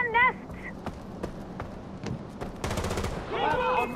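Machine gun fire from the video game Far Cry 4, clustered bursts of rapid shots with a dense rattling run near the end, mixed with game voices speaking over the action.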